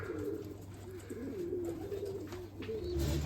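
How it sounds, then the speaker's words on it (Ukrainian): Crested shaggy-footed Mykolaiv pigeons coo in a steady, repeated low rolling rhythm, close and fairly loud, continuing throughout with a faint background hum. "Зараз ми підемо подивимося Миколаївських голубів. Це чубаті лахматі голуби."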